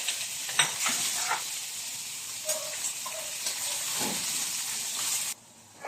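Ingredients sizzle in hot oil in a pan for a Filipino jackfruit and mung bean dish, a steady close hiss with small stir clatters, cutting off near the end.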